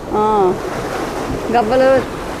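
Ocean surf rolls at Vizag beach, a steady broad wash of waves beneath raised voices that carry loudly over it.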